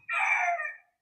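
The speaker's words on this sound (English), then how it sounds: "I love the roosters in the background, Lena." A rooster crows once in a single drawn-out call lasting under a second, clear and moderately loud against a silent background, with no voices.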